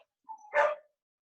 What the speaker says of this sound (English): Oh, it's an excited dog.